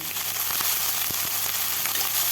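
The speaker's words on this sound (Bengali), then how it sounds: "দেখুন এইভাবে আমি ভাজতেই থাকবো" Potatoes fry in a pan for a dhenki shak chorchori, giving a loud, close, continuous sizzle with a few sharp pops and crackles.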